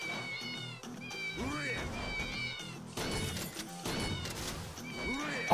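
Repeated cartoonish cat meows ring out with each footstep from the Mew shoes item in the Yakuza 0 video game, sounding in a steady rhythm under a person talking.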